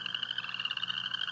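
A single frog calls up close in a steady, ratchety, mechanical-sounding trill that runs continuously and alone, with no voices over it.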